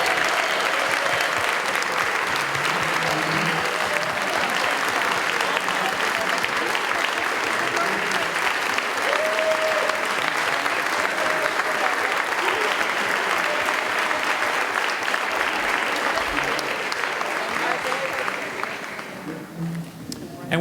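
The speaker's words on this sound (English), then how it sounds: "how about a big round of applause for all 62 employees who we recognize today for their exemplary" An audience gives sustained, loud applause for 62 employees honoured for exemplary customer service at a recognition ceremony, a continuous dense wash of clapping that begins to thin and fade near the end.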